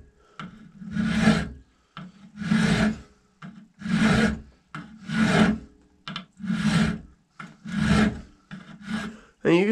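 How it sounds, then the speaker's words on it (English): A hand file is stroked through a square dovetail slot cut into a muzzleloader barrel for a barrel lug, giving about nine steady, evenly paced rasping strokes, close and loud, with brief pauses between them. "you just want to pretty much start it by filing that square slot out"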